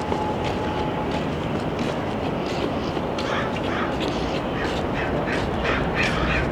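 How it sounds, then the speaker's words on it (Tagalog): A train passes by outside a residential building in Canada, a steady broadband rumble holding for several seconds, with bird chirps scattered over the top. "Naririnig ko lang yung train."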